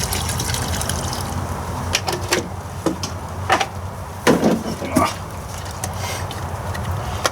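Windshield washer antifreeze glugs and trickles from plastic jugs into a 5-gallon pail, a steady liquid pour with a few sharper splashes and knocks, close by.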